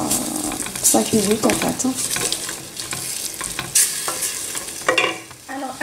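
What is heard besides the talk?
meat with onion and spices frying and browning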